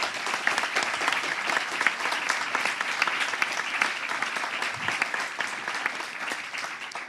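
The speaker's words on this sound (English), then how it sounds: "I would really like to have an applause for the organizing team" Steady audience applause at a general assembly conference session, a dense continuous patter of many hands clapping at even loudness throughout, with no talking over it.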